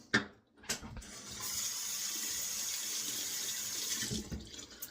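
Water runs steadily from a tap for a few seconds to hydrate Mitchell's shave soap, a close hissing stream framed by brief knocks and handling sounds at the start and end.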